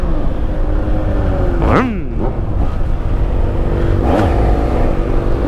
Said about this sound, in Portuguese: Essa moto aqui, pra ela empinar, você tem que chamar ela com força mesmo, pra ela subir.